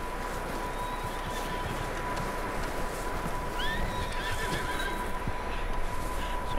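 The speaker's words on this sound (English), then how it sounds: "Some horses in here, sound like." Horses whinny inside a barn in the Red Dead Redemption 2 game, with a couple of short rising neighs toward the middle over steady ambient noise and faint hoof clatter.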